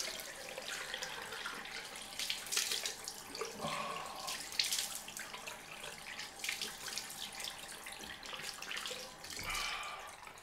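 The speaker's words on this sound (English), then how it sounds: "the cold water coming out of the tap is nowhere near as cold as it was during the winter" Cold water runs steadily from a bathroom tap for a rinse after a straight-razor shave, a faint, continuous splashing hiss with small shifts in the flow and no voices.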